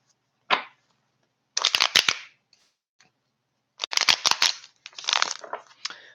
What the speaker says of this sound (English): These cards did not want to shuffle.